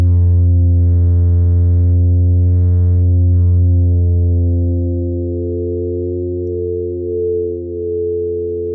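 Synthesized low-frequency tones held at high resonance hum steadily as stacked sustained pitches, with a few brief higher buzzy bursts early on and a slight dip and wobble in loudness toward the end.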